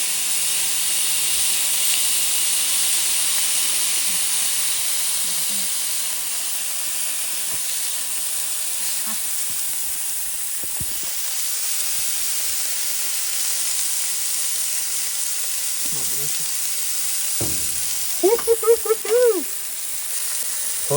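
A smashed burger patty sizzles on a Blackstone griddle, a steady loud hiss and crackle throughout, with brief scraping and clanks near the end and occasional voices.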